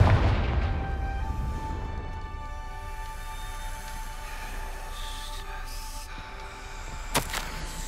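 A Confringo blasting curse in Hogwarts Legacy: a heavy booming burst that rings out into a long, tonal magical shimmer and decays, with a sharp crack near the end.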